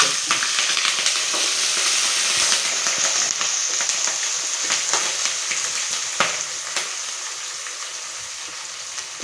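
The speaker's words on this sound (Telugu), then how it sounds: "అల్లం ముక్కలు, పచ్చిమిరపకాయ ముక్కలు వేసేసుకున్నాం." Ginger and green chilli pieces fry in a pan with a loud, dense sizzle close by. Scattered clinks from stirring break through now and then as the crackle slowly eases, and no one speaks.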